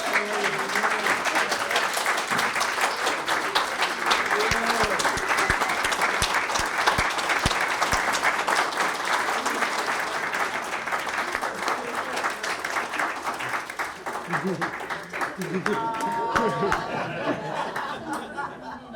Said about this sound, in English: Let's have one more round of applause for our honorees